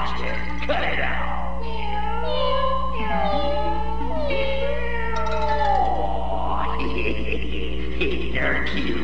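Six cartoon kittens mew in high, wavering cries, several overlapping and steady over a constant low hum.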